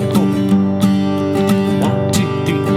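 A guitar strums a basic country pattern in steady alternating down and up strokes. The chords ring loud and close, with crisp accented attacks that repeat rhythmically and no voice over them.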